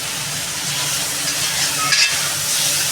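Tomatoes and potatoes sauté in oil for katla fish curry, a loud, steady sizzle with a brief stir and scrape partway through.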